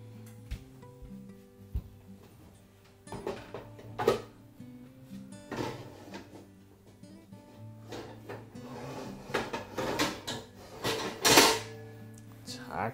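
Someone rummages through a lower kitchen drawer beside the oven looking for a frying pan, with irregular clatters of pots, pans and utensils and drawer knocks that grow busier toward the end, close and moderately loud, with faint voices underneath.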